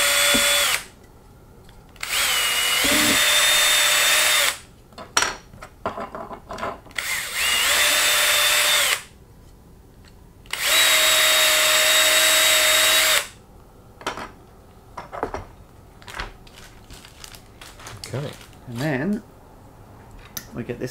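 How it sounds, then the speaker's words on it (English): A power drill reaming 1/8-inch holes in RC car parts whirs in several long bursts separated by pauses, close and loud, with clinks of metal and handling noises between runs. "So drill it all first with the 1/8."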